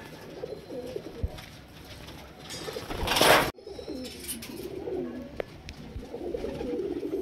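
A male Ablook pigeon and a female Kalanka pigeon coo in low rolling phrases close by, with a burst of noise near the middle and the cooing resuming afterward.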